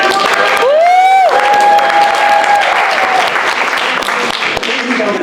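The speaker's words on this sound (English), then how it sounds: "I suppose a round of applause for Barry and his classic game of brain bucket" Applause from a theater audience at a marionette show, a full crowd clapping steadily with some cheering and whistles, loud and close throughout.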